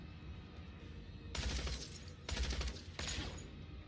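Gunfire in the video game Tales from the Borderlands comes in two dense rapid bursts, loud and crackling, with a brief lull between them and a final shorter burst.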